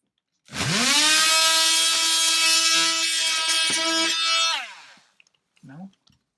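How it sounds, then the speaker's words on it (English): Power saw cutting an outlet opening in a wall, its motor whining up to a loud steady pitch for about four seconds before spinning down, followed by a brief faint sound. "I need to cut a little more."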